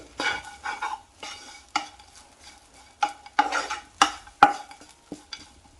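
A spoon stirs a mixture of jaggery and flour with cardamom powder, giving a series of distinct scraping and clinking strokes against the vessel, close and fairly loud, each separated by brief pauses.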